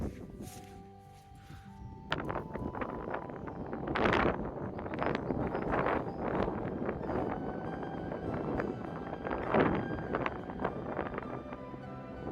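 Gusty wind buffeting a microphone, a loud broadband roar that swells and surges in bursts with no clear voice above it.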